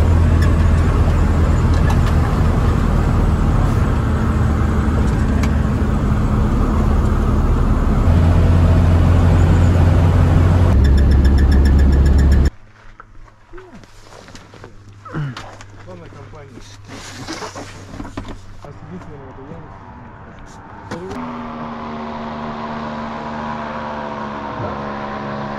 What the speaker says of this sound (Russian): Потом у нас была заброска на автомобиле.